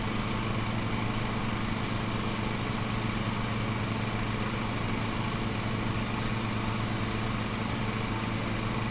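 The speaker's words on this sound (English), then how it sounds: "You want me to turn down the lawnmower noise?" A lawn mower engine drones steadily in a lawn mowing simulator video game, a constant, fairly loud motor hum running throughout with no speech over it.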